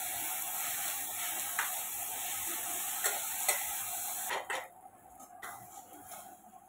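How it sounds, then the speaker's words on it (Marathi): Onions browning in a little oil in a pan over gas, a quiet steady sizzle with a few soft utensil scrapes, fading lower toward the end. "कांद्याला थोडा वेळ लागतो, आणि याला व्यवस्थित असा ब्राऊन कलर येईपर्यंत याला आपल्याला व्यवस्थित शिजवून"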